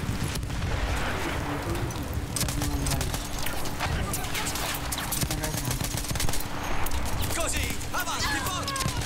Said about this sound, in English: All the way up there, this hail of gunfire.